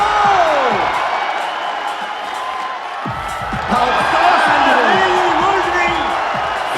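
Spectators at a lead climbing competition in Prague cheer for climber Adam Ondra: a loud, sustained crowd roar with whoops, yells and bangs that swells after the first few seconds.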